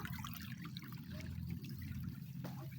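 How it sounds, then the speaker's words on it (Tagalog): Steady rushing water flows continuously, a broad noisy wash with a low rumble, no voices. "lakas ng agos ng tubig."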